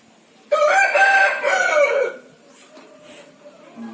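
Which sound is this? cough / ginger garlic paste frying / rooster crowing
rooster crowing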